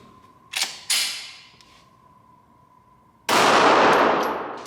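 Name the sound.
Glock 26 Gen 5 9mm pistol firing rounds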